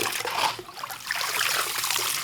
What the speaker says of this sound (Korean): 계곡의 모래와 물을 이용해서 은의 색깔을 밝게 만들어가는 작업입니다